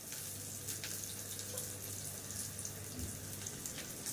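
A kitchen tap runs steadily into a sink for hand washing during cooking, a continuous close splashing hiss with slight dripping and clatter, no talk.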